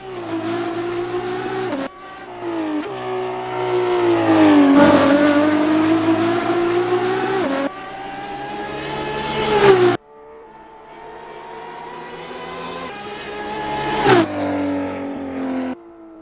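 Race car engine in the Assetto Corsa video game revving hard through several gear changes, loud and close, with rising whines that drop at each upshift and no talk over it.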